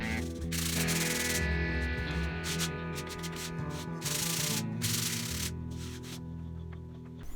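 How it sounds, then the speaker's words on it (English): Sandpaper rubs back and forth over a drywall patch on damaged sheetrock, making a steady, close scraping hiss in long strokes that stop and start with a few short pauses. "I just lightly sand it to get some of those high spots out"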